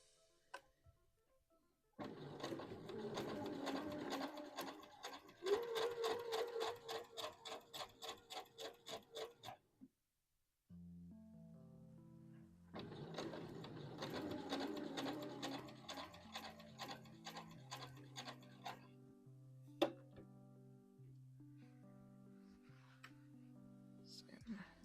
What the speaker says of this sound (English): Trying to make sure I sew a straight line.